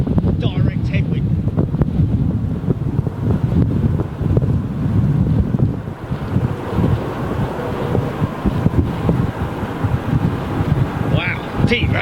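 Strong wind buffets the microphone beside a runway at London Heathrow as a large airliner lands into a direct headwind, a loud, continuous roaring rumble that barely eases, with a voice speaking over it.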